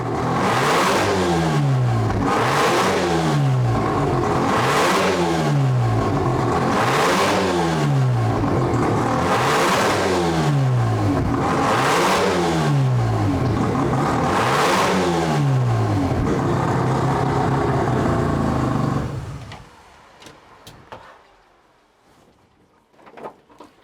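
A Mazda RX-7 FD rotary engine running on methanol revs hard in repeated loud, rhythmic rises and drops of pitch for about nineteen seconds, then cuts off abruptly, leaving quiet with faint clicks.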